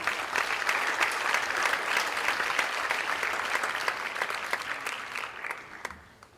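Audience at a Coastal Carolina University business event applauds the speakers, steady dense clapping throughout that thins and fades in the final second.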